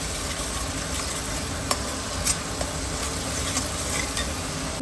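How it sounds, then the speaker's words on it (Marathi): Onion paste frying in a pan toward golden brown for a paneer dish, a dense steady sizzle with occasional spoon scrapes and light taps, close and constant. "आता मी याला पण मस्तपैकी फ्राय करणार आहे गोल्डन ब्राऊन होईपर्यंत"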